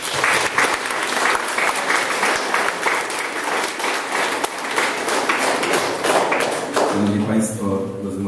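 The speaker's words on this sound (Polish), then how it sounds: "Jeszcze raz brawa." Vigorous audience applause at a school patron's day celebration, many hands clapping steadily at close range with a few sharper taps, ending as a speaker's voice takes over.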